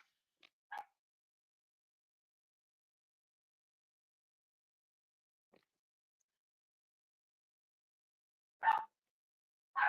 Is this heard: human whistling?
no